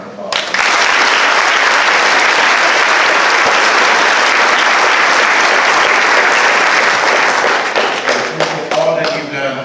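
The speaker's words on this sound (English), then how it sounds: "If we could give them a round of applause" Loud, dense applause from a school audience at a senior awards night, swelling quickly and holding steady before tapering into scattered claps and murmurs near the end.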